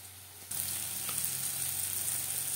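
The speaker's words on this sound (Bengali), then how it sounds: "পেঁয়াজ, টমেটো, মটরশুঁটি বেশ ভালো করে ভাজা হয়ে গেছে।" Onion, tomato and green peas fry in a pan for an aloo bharta. A steady sizzle starts abruptly after half a second and then holds even and close.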